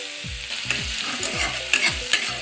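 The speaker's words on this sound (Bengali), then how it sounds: "এবার দিয়ে দেবো পেঁয়াজ কুচি" Chopped onion frying with spice paste in a wok sizzles steadily while a utensil scrapes and stirs in a regular rhythm of about four strokes per second, close and fairly loud.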